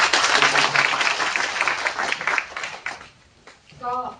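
An indoor training-course audience claps in a dense burst of applause that fades out, followed by a brief spoken voice at the end.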